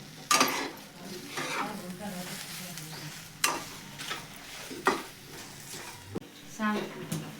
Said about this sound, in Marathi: माझा कांदा भाजायचा बघा